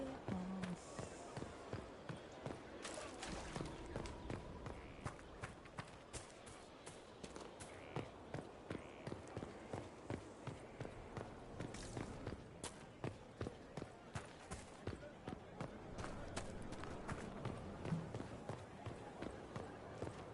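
An upstairs neighbor walks around overhead, making a steady run of dull, muffled thuds through the ceiling over about twenty seconds under faint background sound.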